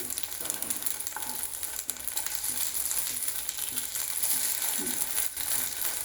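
Puffed rice tikkis fry in oil in a pan, giving a constant moderate sizzle with a few faint scrapes and clinks, and no voices.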